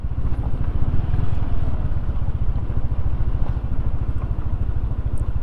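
A motorcycle climbs a steep, rough, curving unpaved stretch of the Villa Verde Trail between Pangasinan and Nueva Vizcaya, its engine thrumming close and loud in a fast, steady pulse with light rattling.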